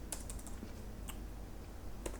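Code being typed on a computer keyboard, with soft, scattered key clicks in short irregular bursts over a steady low background hum.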